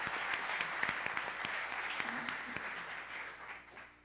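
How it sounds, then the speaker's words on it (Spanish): Sustained audience applause at a Spanish-language computing roundtable event, a dense crowd of many hands clapping steadily throughout and tapering slightly toward the end. "Recibámoslos también con un aplauso."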